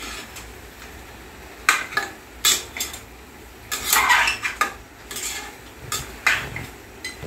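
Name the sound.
sautéing with turmeric, stirring with a ladle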